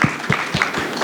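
Audience applause at the UK-Africa Summit 2024, a short run of clear individual claps in a steady beat, close and moderately loud, with no voices over it.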